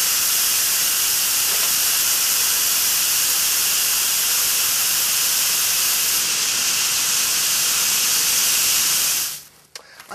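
A lit rocket propellant strand burning, a loud, steady, close roaring hiss that runs unbroken for about nine seconds and then cuts off abruptly.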